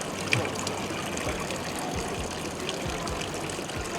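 Spring water runs continuously from a public drinking fountain in Belgrade, Serbia, a close, steady splashing trickle with no talking.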